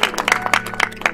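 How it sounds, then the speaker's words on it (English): A short burst of applause from a small group, a rapid patter of claps over a low background hum, close and moderately loud. "Another round of applause for her,"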